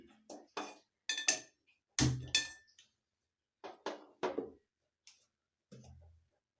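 A metal kadhai being placed on the kitchen stove to heat, giving a sparse series of light clinks and knocks with one heavier clunk, close and fairly faint, separated by quiet gaps.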